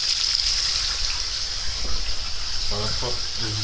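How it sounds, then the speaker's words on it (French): Water spraying steadily into a bathtub onto the silicone seal during a plumbing leak test in Paris, a continuous close hiss, with a voice breaking in near the end. "voilà, nous arrosons."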